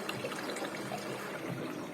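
A steady rush of water flowing into a Samsung washing machine with a 4E fault, continuous and moderately loud, with no voices.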